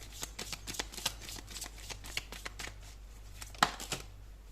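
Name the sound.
shuffling tarot cards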